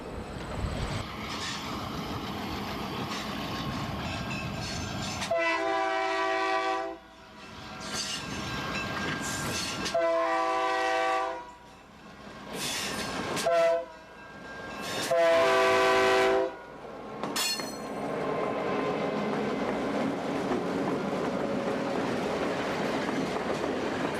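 Burlington Northern streamlined diesel locomotives at the Illinois Railway Museum sound a loud horn in several long and short blasts over the rumble of a passing train, with rail noise continuing between the blasts.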